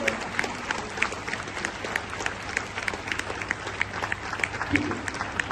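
Audience clapping at a school or student event, many hands beating in a loose, fairly rhythmic patter at moderate volume, sustained throughout with a faint murmur underneath.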